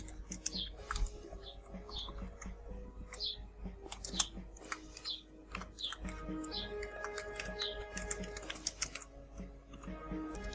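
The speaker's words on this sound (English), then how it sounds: "who is typing and why?" Rapid keyboard typing with clustered clicks runs throughout, mixed into synth music and game sound effects from the Amiga game Transarctica, at moderate level with no talk.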